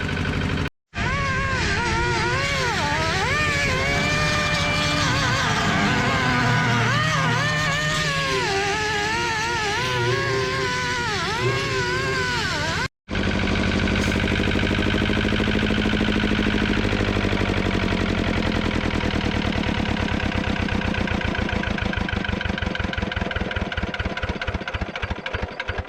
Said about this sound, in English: I can actually hear the note of the the note of the lister changing as the generator kicks in